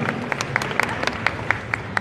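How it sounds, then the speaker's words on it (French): A small convention audience claps steadily for a couple of seconds at a Paris Manga panel, individual claps standing out in a quick, even rhythm. "on les applaudit tous bien fort"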